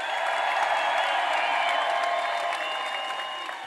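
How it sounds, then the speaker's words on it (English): A crowd applauds and cheers at a Tennessee Volunteers baseball championship parade downtown, a dense, steady wash of clapping that eases slightly toward the end. "Another round of applause for Xander and Kirby, Simo, Hunter Ensley, and your Tennessee Volunteers"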